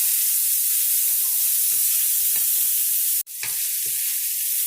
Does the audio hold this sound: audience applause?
no